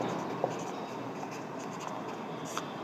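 Pen writing out a math formula on paper, a soft steady scratching with a couple of faint taps, close and quiet, no speech.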